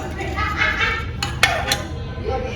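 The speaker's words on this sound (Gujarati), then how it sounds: "આ રીતે જો હવે દાળને સારી રીતે મિક્સ કરી લઈશું બધા મસાલા સાથે" Urad dal being stirred together with spices in a pot, a few metallic clinks of the spoon against the pot over a low steady bubbling, close and moderately loud.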